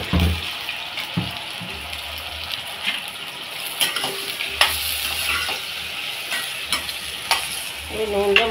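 Eggplant pieces fry in oil in a pan for a spicy garlic dish, giving a steady broadband sizzle with occasional stirring scrapes and clinks, loud and close, with no voices.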